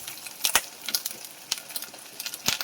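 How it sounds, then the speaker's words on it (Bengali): Onion paste with ginger and green chili paste fries in a pan, giving soft continuous sizzling broken by sharp crackling bursts and the occasional scrape of a spatula. "পেঁয়াজ বাটাটা হালকা করে ভেজে নেব, নিয়ে তার মধ্যে আদা বাটা দিয়ে দেবো, কাঁচা লঙ্কা বাটা"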